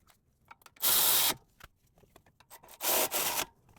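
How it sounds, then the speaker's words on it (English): A wrench tightens the front caliper bracket bolts by hand on a 2018–2023 Hyundai Kona AWD. Two bursts of loud ratcheting whirr are set apart by small clicks and metal taps, close up, and nobody speaks. "Let's hand tighten them with the wrench."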